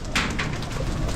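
Loft pigeons being readied for racing coo steadily in a thick, continuous murmur close by, under a broad hiss of background noise.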